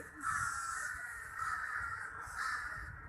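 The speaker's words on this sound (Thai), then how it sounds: "เสียงอีกานี่ร้องกันเยอะมากเลยครับต้นนี้" Several crows caw in harsh, repeated bursts in a tree in Lumphini Park, Bangkok, overlapping one another in a steady chorus.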